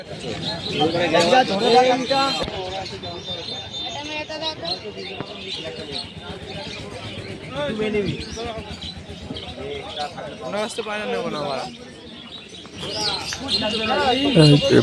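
Pigeons coo and murmur amid the busy chatter of the crowded Birnagar bird market in Nadia district, with people talking over the birds throughout.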